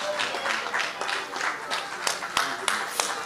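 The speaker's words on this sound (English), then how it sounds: "Let's give her a big round of applause, please" A small indoor group applauding at a fashion event, a short burst of scattered, moderate hand clapping with a few sharper claps, while voices talk underneath.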